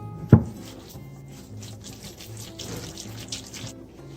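Water runs steadily from a kitchen tap for thinning corn fritter batter, starting with a clunk as the faucet opens, then a close, even splashing stream with no one talking.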